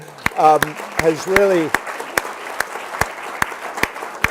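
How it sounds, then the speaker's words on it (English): Audience at a college lecture gives a round of applause, sparse distinct claps ringing out one by one at a steady pace over four seconds, while someone speaks briefly over the first claps. "let's give another round of applause to Jenna Spinelli, who"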